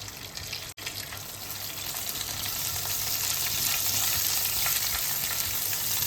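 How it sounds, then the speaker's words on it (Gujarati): Whole cumin, cinnamon, cloves, two or three dried red chillies and curry leaves crackle in hot oil, a steady close sizzle that swells slightly and holds throughout. "એમાં થોડું જીરું એડ કરશું અને તજ અને લવિંગ આપણે એડ કરશું સૂકા લાલ મરચાં બે ત્રણ લીધા છે એને આપણે એડ કરશું અને મીઠો લીમડો"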